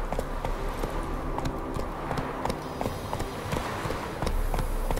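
Roach the horse galloping in The Witcher 3: Wild Hunt, a fast, steady run of hoofbeats pounding close and loud throughout, with a low ambient rumble beneath.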